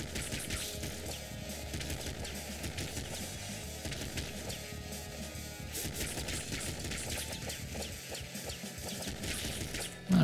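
Rapid gunfire from a machine gun in the top-down shooter Nuclear Throne, dense and continuous across the whole stretch, layered with busy game effects and ending on a sharp loud burst.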